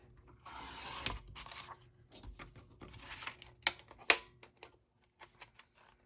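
Paper being cut for card making, a run of crisp mechanical snips and clicks in irregular bursts, close and fairly quiet, ending with a few isolated ticks.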